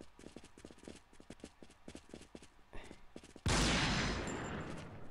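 Rapid gunfire in the shooter game Point Blank Strike: a fast, evenly spaced string of shots for several seconds, then a sudden loud blast that fills everything and slowly fades.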